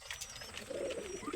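Breeding pigeons give a short, soft, low coo, faint and close against a quiet background.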